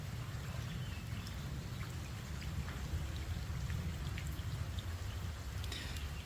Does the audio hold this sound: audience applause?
no